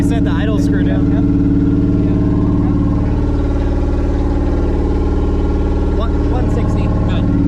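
Project F car engine idling steadily and loud throughout, a constant low rumble with the idle hunting as RPM climbs on its own toward about 2,000, with voices talking over it.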